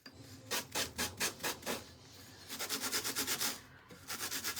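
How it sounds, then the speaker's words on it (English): A hand sander rubs along raw paper edges in short rhythmic strokes, quiet scratchy bursts in two quick runs close by. "Make sure you have a good grit on your sander for this."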